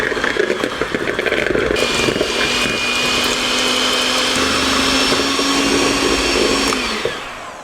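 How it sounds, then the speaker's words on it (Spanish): An electric stand or hand mixer runs at speed 2, creaming butter for pineapple tamales, with a loud steady whirring drone that holds throughout before winding down at the end. "Con la batidora a velocidad 2 comenzamos a cremar nuestra mantequilla."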